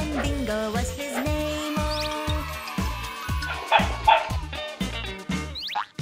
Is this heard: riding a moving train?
no